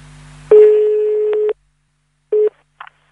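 While a mobile number is being dialed, a telephone line plays its tones: one long steady beep of about a second, a pause, a shorter beep, then a faint click, clear and isolated in an otherwise silent line.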